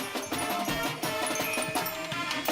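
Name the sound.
Northeastern fight song recording with triangle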